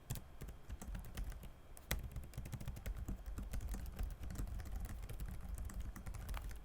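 Typing on a Lenovo Legion Y520 gaming laptop's backlit keyboard, whose keys have 1.7 mm of travel: continuous quick, soft key taps at close range, steady and fairly quiet with no talking.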